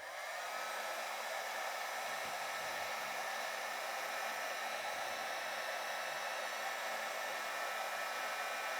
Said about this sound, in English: just don't mind the heat gun fan noise for a moment here